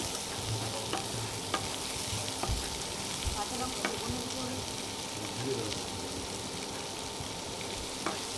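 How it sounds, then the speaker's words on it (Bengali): Manchurian with chopped cabbage frying in a pan, a continuous close sizzle with occasional clicks and scrapes of stirring throughout. "এরপর একটু ভালো করে আমাকে ভেজে নিতে হবে দু তিন মিনিটের মতন ভাজলেই মোটামুটি হয়ে যাবে"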